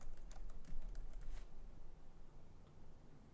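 Quick bursts of keystrokes on a computer keyboard, faint and close, clustered in the first second and a half and then tapering off into quiet.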